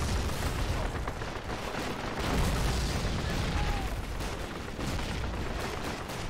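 Bomber aircraft bombing in Call of Duty: United Offensive, a dense, continuous roar of rumbling blasts and gunfire filling the whole stretch, loud and unbroken.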